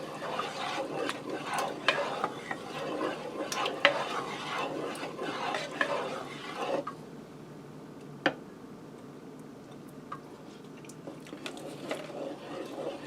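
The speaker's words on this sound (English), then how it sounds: "Stir that around in there good." A spoon stirs salt into a pot of homemade rigatoni sauce, with irregular scraping and clicking against the pot over a soft simmer; the stirring fades after a few seconds, leaving a quiet bubble and an occasional tap.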